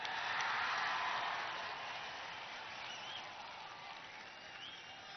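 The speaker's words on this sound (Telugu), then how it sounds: "గారు చప్పట్లు కొట్టండి అందరూ." A crowd at a political gathering claps together in a sustained burst of applause, heard from a distance and fairly faint, swelling at first and then slowly tapering off.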